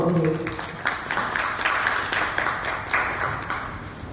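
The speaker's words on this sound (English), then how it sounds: "Can we have a huge round of applause for her, please?" Audience at a book event in Jalandhar welcoming author Harshita Gupta with a round of applause, dense, even clapping from a moderate crowd with a brief voice at the start.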